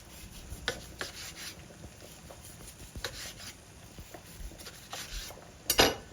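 A knife slicing through a rested grilled steak seared on a Big Green Egg, quiet intermittent cutting and scraping strokes against a board, close by, with a sharper clink near the end.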